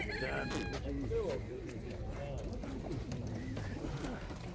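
Pigeons at an outdoor pigeon market in Jedlińsk coo and flutter close by amid crowing poultry, with people talking steadily over the birds.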